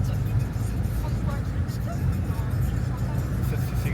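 Cars on a road, heard as a continuous low rumbling traffic drone close by, with people talking over it throughout.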